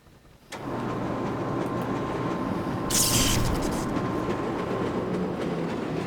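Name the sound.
train speeding along rails in video game Black Mesa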